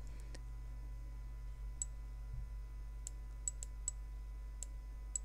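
Scattered sharp computer mouse clicks, including a quick double click, sounding faint and close over a steady low hum in a quiet room.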